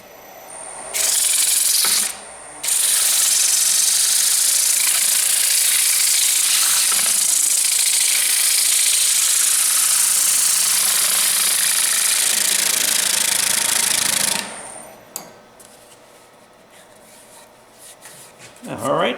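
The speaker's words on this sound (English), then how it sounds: "I'm actually doing the sanding down on the bottom edge down here" Loud, steady abrasive whirring of sandpaper pressed against the bottom edge of a winged wooden bowl spinning on a lathe, running continuously with a brief break near the start, then stopping to leave a quiet room.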